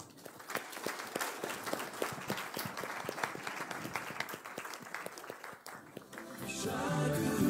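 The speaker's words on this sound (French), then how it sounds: "On les applaudit, hein?" An audience claps steadily at close range, a dense patter of many hands that carries on for several seconds before music swells in over the end.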